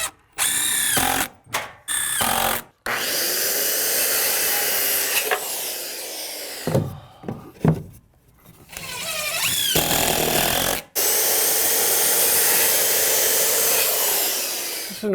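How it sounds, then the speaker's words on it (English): A power sander lightly sanding wooden shed trim, whining loudly in long runs broken by several abrupt stops and restarts, close and without talk. "Now we're going to finish this off with a quick light sand and a paint job as well."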